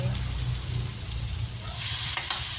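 Squash sizzles steadily as it sautés in a hot pan, a close, loud, continuous frying hiss with light stirring noises, briefly under a voice.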